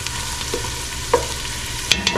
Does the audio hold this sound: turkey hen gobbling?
no